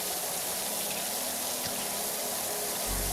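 Water sprays steadily in a broad, loud hiss that holds unbroken for about three seconds, with no voices over it.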